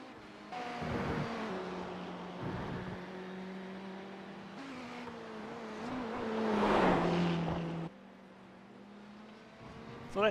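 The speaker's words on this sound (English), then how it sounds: "Leaf showing us how to go down through the gears in that Ferrari." Ferrari race car in a racing video game dropping down through the gears, a steady engine drone with stepped pitch changes and a louder swell near the end, no talk.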